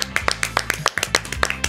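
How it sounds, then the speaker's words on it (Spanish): A handful of people clapping at a New Year countdown to 2023, crisp close individual claps in a quick uneven rhythm, each hit distinct, lasting under two seconds. "¡Un aplauso!"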